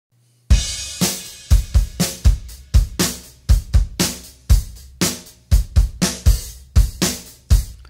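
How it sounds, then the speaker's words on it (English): A live-played drum kit without compression hits in a steady groove, punchy kick and snare strikes with cymbal wash, roughly sixteen sharp loud hits with decaying tails. "it's a live played drum kit"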